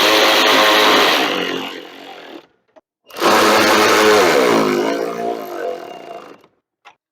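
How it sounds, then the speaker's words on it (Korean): Power tool running on a Bosch 600-watt electric radiator fan for a Kia Mohave, fastening its six mounting bolts: two loud whirring bursts close by, separated by a short silence. "이제 볼트 6개 조이면 펜 조립이 끝난 거예요."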